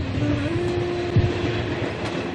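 A Mumbai railway train runs past close by, a steady loud rumble with a sustained metallic tone and a brief clank partway through.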